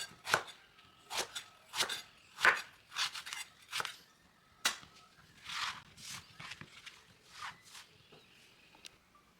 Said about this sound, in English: starts with slicing 2 eggplants